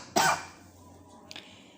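A man gives a single sharp cough, followed by a quieter short throat sound a moment later, in a quiet room.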